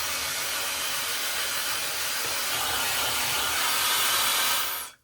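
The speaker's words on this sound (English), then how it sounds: "let's try the hair dryer feature" A high-speed hair styler on its hair dryer setting blows steadily with a loud, broadband rushing hiss for several seconds, then cuts off abruptly at the end.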